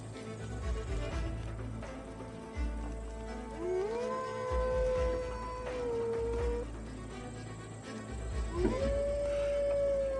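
A dog howls in the video game Assassin's Creed Valhalla, two long drawn-out howls, the first rising and sustained, the second starting higher after a pause, over a low rumbling game background.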